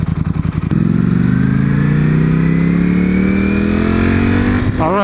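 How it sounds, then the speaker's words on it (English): Heavy road traffic passing close by, with a loud vehicle engine sweeping upward in pitch as it accelerates past, and other cars droning steadily behind it. "there's just too many cars today"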